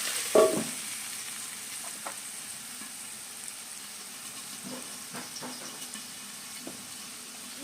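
Samosa masala cooks in a covered pan, giving a soft, steady hiss of steam and gentle sizzling, with an occasional faint knock or clink from the lid or pan.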